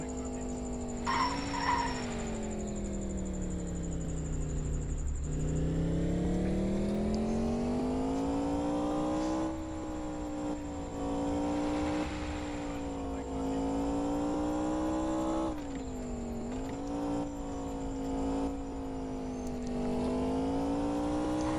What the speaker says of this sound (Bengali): গাড়িটা আমি অনেক জোরেই চালাচ্ছি।